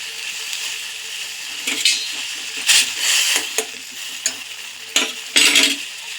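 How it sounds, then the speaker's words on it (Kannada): Herbal tea of avarike (senna) leaves and flowers simmering in a pot, a steady bubbling hiss with several louder stirring scrapes and bursts, close and fairly loud, no talk. "ಚೆನ್ನಾಗಿ ಕುದೀತಾ ಇದೆ"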